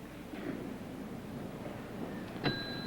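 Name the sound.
timer bell ringing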